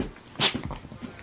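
A single short, sharp sneeze bursts out nearby indoors, followed by faint soft sounds and low room noise.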